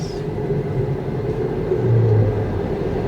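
A Tesla Model 3 accelerates through a curve, producing a smooth continuous rumble of road and motor noise that swells slightly toward the middle, heard from inside the car without talking.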